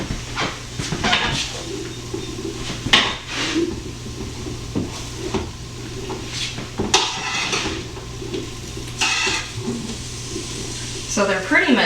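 A metal utensil stirring and scraping food around in a pan while cooking a farm breakfast, irregular clinks and scrapes close by, with a person talking now and then over the steady kitchen hum.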